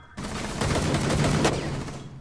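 Rapid automatic gunfire in a competitive shooter video game, a dense burst of shots that runs steadily for about two seconds, loud and close with no talking over it.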